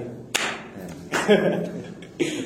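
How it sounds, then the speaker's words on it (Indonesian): An audience gives a single round of clapping, a short burst that fades into chatter and a brief chuckle, with another clap near the end. "Tepuk tangan sekali."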